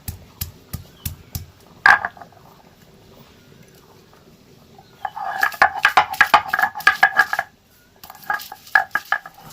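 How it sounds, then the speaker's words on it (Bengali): Ginger and green chili pounded into paste on a stone, giving repeated sharp scraping and knocking strokes in rapid bursts at close range, with quiet gaps between the bursts. "আগে এগুলোকে পিষে নিই মানে বেটে নিই"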